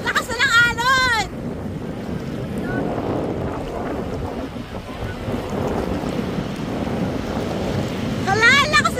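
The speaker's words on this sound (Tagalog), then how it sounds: "Hala, lakas na ng alon, Homer!" Strong sea waves surge against a rocky shore at Mauban, Quezon, with heavy wind buffeting the microphone into a continuous roaring wash. A person's excited voice can be heard at the beginning and end.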